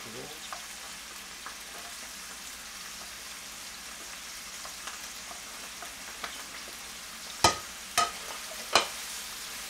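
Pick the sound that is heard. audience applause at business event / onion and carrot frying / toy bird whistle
onion and carrot frying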